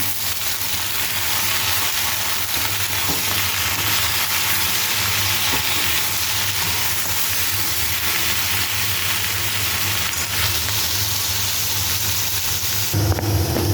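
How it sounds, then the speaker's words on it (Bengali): Potato slices fry in hot oil for aloo bhaja, a steady, dense sizzle that runs unbroken and fairly loud from start to finish, with a slight shift near the end. "তখন আলু ভাজাগুলো আমি ভালো করে ভেজে নেব।"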